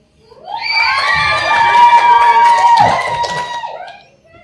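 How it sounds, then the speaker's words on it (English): Girls screaming and cheering at a school drama performance, a loud sustained crowd of high shrieks and shouts that swells and then fades out. "Do you see those girls screaming over Rotten Penny?"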